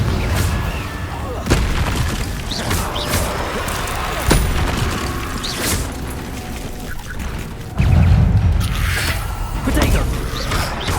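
Confringo blasting-spell explosions from the game Hogwarts Legacy boom repeatedly through a dense, loud game soundscape, several heavier thuds standing out, with a voice speaking over them.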